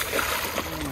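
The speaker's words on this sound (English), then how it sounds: "Had to splash you." Water splashes once near a fishing boat during catfishing on the Saginaw River, a short wet slap with people talking over it.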